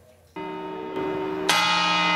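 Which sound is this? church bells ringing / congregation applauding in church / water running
church bells ringing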